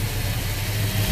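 A truck's 350 engine idles steadily at close range, with a low, even rumble and an uneven, tappy texture from the valves, and no talking.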